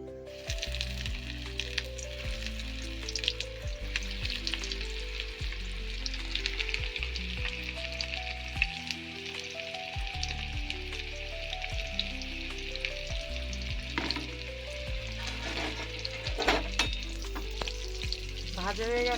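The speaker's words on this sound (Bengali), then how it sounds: "এবার কাটলেটগুলো ভাজবো। তেলটা গরম হয়ে গেছে" Prawn cutlets frying in hot oil over a medium flame, a dense continuous sizzle with scattered small pops and crackles, steady and close, over a faint low background hum.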